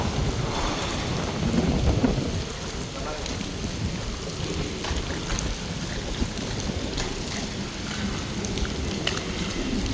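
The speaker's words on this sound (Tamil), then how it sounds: "மழை பெய்யுது" Steady rainfall during a fishing outing, a dense continuous hiss and patter that fills the whole stretch, with low rumbling underneath and a few louder drops.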